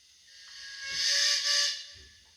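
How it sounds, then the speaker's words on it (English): A short, hissing steam whistle from a model Bagnall steam locomotive rises and falls over about two seconds, breathy and fairly close, with a faint low rumble beneath. "Number four is a short whistle."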